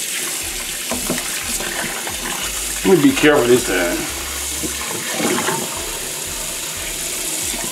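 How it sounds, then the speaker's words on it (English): Tap water running while pork neck bones are rinsed clean in a sink, a steady wash with a louder splashing burst midway, under a man's speech. "You probably have to change the water like 2 or 3 times to get them bones super clean."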